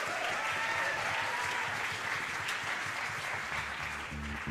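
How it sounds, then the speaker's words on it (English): An audience at a jazz concert applauds the band's section leaders, a full steady round of clapping at moderate distance that holds throughout, with a low tonal hum entering near the end. "So can we please get a round of applause for my section leaders?"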